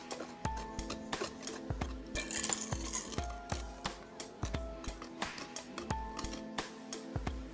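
Spoon stirring tea cake batter with baking soda and baking powder in a mixing bowl, giving repeated clinks and scrapes in a steady rhythm, close and fairly loud, with no talking.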